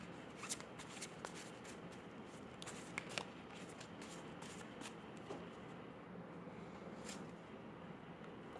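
A deck of tarot cards is shuffled quietly and close by, with soft repeated riffles and flicks of card on card and a few sharper snaps, and no talk.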